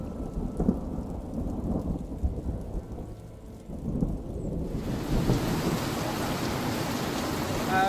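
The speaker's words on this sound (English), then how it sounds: "And so far we've seen a lot of rain." Steady rain pours throughout while thunder rumbles low and close, and after about five seconds the downpour swells into a louder, fuller wash that continues to the end.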